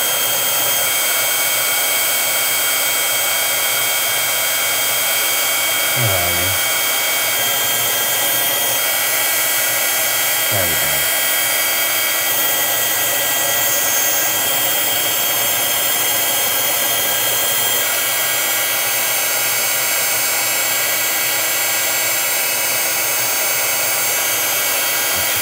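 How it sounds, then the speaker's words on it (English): A heat gun runs steadily from underneath a card to set embossing powder, a loud continuous whooshing blower hum throughout with no talking. "So you make sure your heat gun is hot before you start there."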